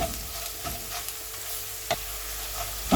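Coriander powder toasts in a pan for chickpea curry, giving a soft, steady sizzle with a few light scraping stirs and small clicks, fairly quiet and close, with no voices.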